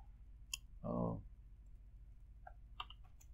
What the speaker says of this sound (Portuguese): Vou clicar em apply.